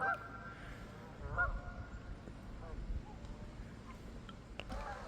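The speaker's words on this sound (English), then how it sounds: "I see a bunch of geese and I see the swans down there." Geese honk on a pond with swans nearby, a few scattered nasal calls rising over outdoor background noise with some wind rumble, fairly close but not loud.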